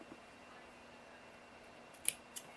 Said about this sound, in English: I like to put little clip marks at the folds